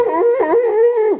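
A man mimics a dog's howl with his voice, a drawn-out wavering yowl followed by short yelping calls, loud and close for just over a second with no other sound around it.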